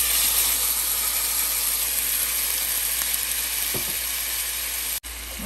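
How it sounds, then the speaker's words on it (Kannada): Ground masala paste for an elephant yam fry sizzles in oil with a steady, even hiss, close and continuous, with a brief clink partway through and a short break near the end. "ಇದನ್ನು ಸ್ವಲ್ಪ ಚೆನ್ನಾಗಿ ಎಣ್ಣೆಯಲ್ಲಿ ಫ್ರೈ ಮಾಡ್ಕೊಳ್ಳೋಣ, ಹಸಿ ವಾಸನೆ ಹೋಗೋಕ್ಕಂತ"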